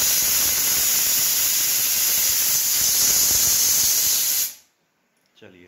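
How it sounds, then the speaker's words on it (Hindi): A loud, steady hiss of steam rushing from the whistle of a Hawkins Contura 3-litre stainless steel pressure cooker, continuous for several seconds before cutting off abruptly into near silence. "ये देखिए फ्रेंड्स, इसमें एक सीटी आ गई है"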